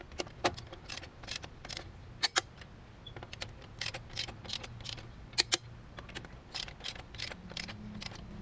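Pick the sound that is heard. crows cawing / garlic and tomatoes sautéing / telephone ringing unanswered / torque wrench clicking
torque wrench clicking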